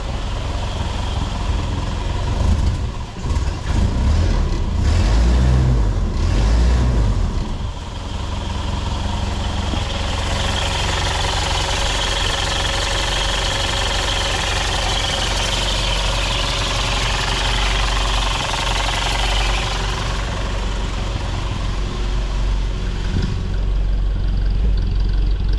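A 1985 M151A2 MUTT military truck engine runs after a cold start, a loud close rumbling idle with a brief throttle surge early on, then settling into a steady, slightly knocking idle.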